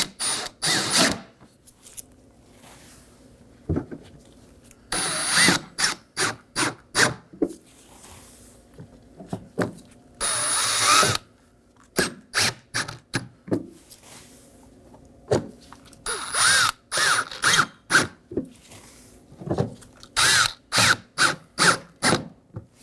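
A power tool drives five T15 Torx screws into the bumper of a 2018–2024 Chevrolet Equinox, sounding in short repeated whirring bursts separated by pauses, close and fairly loud.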